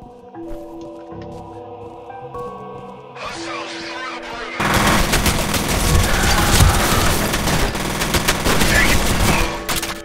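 Gunfire in the first-person shooter F.E.A.R. erupts as a dense, loud fusillade of repeated shots after a quieter opening with game sounds and faint talk.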